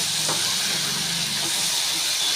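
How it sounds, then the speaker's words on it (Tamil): Onions and vegetables, with a little tamarind, sauté in a pan for ridge gourd chutney, giving a steady close hiss and sizzle with a few faint stirring scrapes. "நல்லா வதங்கிட்டே இருக்குது"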